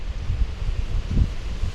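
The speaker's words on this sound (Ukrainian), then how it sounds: "бачите, вітер дує" Wind blows outdoors during spinning-rod fishing, making low, gusty buffeting rumble against the microphone with a couple of stronger swells.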